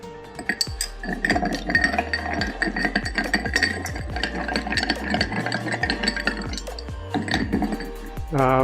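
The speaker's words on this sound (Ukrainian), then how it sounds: "і перемішуємо." A Manhattan cocktail with red vermouth and orange bitters stirred with ice in a glass, a steady rapid rattling and clinking of cubes against the glass that continues for several seconds, close and fairly loud.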